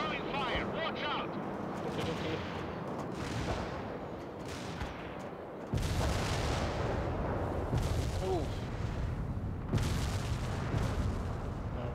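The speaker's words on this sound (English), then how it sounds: "Incoming fire. Watch out." Incoming artillery fire in the real-time strategy video game World in Conflict: dense rumbling blasts and booming impacts, with a louder surge midway, mixed with radio-style unit voices.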